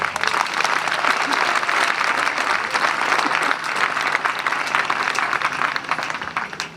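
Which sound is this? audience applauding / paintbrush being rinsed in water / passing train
audience applauding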